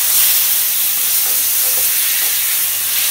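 Chopped tomatoes frying in hot oil for channa masala give a steady, loud sizzle that runs the whole time, with faint stirring under it and no voices.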